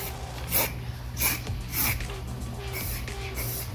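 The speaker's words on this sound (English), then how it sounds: "We're going to take our trusty spray paint and we come down in" Short bursts of a spray paint can marking out the ground where a pondless water feature vault will sit, several quick hissing sprays spaced about a second apart over low outdoor background noise.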